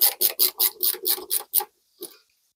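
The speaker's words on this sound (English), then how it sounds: "we're going to screw those into those two top holes here" Small set screws being driven into the back plate of a Yale Assure Z-Wave smart lock: about eight quick, even rasping strokes close by, then a pause and one last stroke, with no talking.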